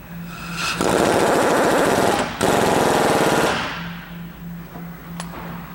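A pneumatic impact wrench drives a threaded part on a hydraulic concrete paving vibrator during repair, giving loud, close, rapid hammering in two bursts split by a brief pause, then winding down, with a steady low hum before and after.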